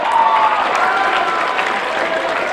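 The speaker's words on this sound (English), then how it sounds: "Give them a round of applause." An audience at a talk breaks into dense, steady applause, many hands clapping together at close range for a couple of seconds.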